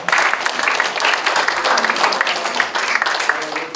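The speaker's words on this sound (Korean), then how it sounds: "우리 성암 어린이 합창단 특별 찬양과 우리 양상불 우리 연주를 위해서 박수로 인사하겠습니다." A congregation at a World Peace Day worship service claps for a children's choir and an ensemble, giving a short burst of loud, dense applause that holds steady for a few seconds, with no voices over it.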